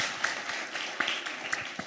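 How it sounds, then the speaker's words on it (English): Live show audience in Manchester giving a round of applause, a crowd clapping with distinct sharp claps standing out over a steady wash, moderately distant and fairly quiet. "Give yourselves a round of applause for making it out to the show"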